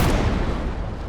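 A loud blast from the video game Outbreak Island, a short dense boom with a crackling rumble that fills the whole moment and stays close and heavy throughout, with no talking.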